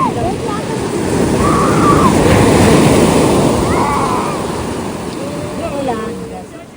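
Waves roll onto a beach in Wales in a steady loud rush, while faint voices and a few high calls drift in over the water noise.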